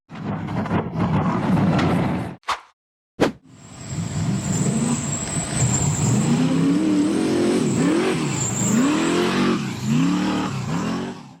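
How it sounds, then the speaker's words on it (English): A blue off-road buggy climbs a steep dirt slope at night, its engine revving hard in loud, rising and falling surges after a short cut-out near the start, close and continuous. "The blue buggy accelerated straight up a steep slope at night"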